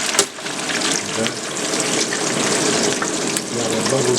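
A porterhouse steak fries in hot oil with a loud, dense, continuous sizzle and crackle that barely lets up, spattering close by with a few sharper pops.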